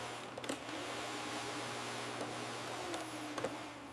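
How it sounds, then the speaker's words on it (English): A vacuum cleaner runs on a rug with a steady, fairly quiet whirring drone, broken by a few faint clicks and bumps as it is pushed and pulled. "Now I am going to vacuum the rug. It's so loud."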